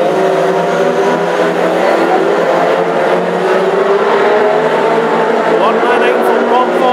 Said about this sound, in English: Listen to them roar and scream at those respective engines.